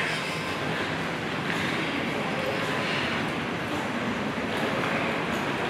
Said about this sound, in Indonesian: Ini aku mau ngevlog kereta nih, kereta bandara.